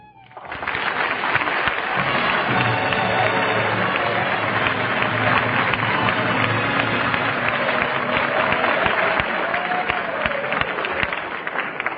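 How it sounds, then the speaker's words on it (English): A studio audience on an NBC Bob Hope show applauds Rhonda Fleming. The clapping swells quickly and then holds as a thick, steady wash, sounding muffled and narrow like an old broadcast recording. "But why should I get all that applause?"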